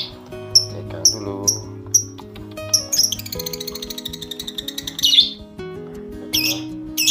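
A 32-day-old lovebird chick in a nest box gives sharp repeated squawks and a rapid chirping trill, close and loud, with a person talking quietly underneath.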